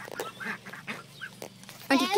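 Duck calling on a farm, a harsh honking quack bursting out loud near the end after quieter animal noises and soft talk earlier.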